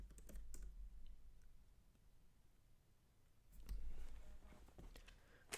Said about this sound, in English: Can't be typing in my Google password on